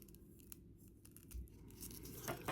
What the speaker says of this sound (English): I'm going to cut that corner off like that.